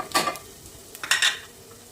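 Chopped tomatoes go into oil with frying onions for Punjabi dal tadka, giving a brief clatter of a spoon against the pan and a soft crackling sizzle in two short bursts.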